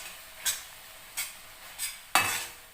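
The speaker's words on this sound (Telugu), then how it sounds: "ఈ మసాలా వేసి బాగా వేయించాలన్నమాట" Spice masala tipped into a pan with curry leaves for a potato curry, stirred in four separate scraping strokes with a rising sizzle near the end, close and fairly quiet with no talk.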